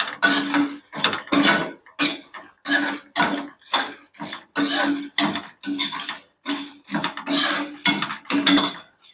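Ingredients are stirred in a cooking pan while making a broad bean curry, a utensil scraping and clinking against the pan in quick, rhythmic bursts with short gaps, close and fairly loud.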